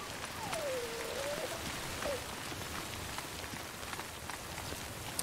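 Scripted rain falls in the video game Death Stranding, a soft, steady hiss of drops spattering on surfaces, with a faint whistling tone rising and falling briefly near the start.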